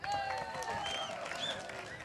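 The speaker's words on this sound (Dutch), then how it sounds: "Op de xylofoon, applaus." Audience applause following a xylophone performance at a village show, steady dense clapping with crowd noise and some overlapping tonal sounds, continuing throughout the short stretch.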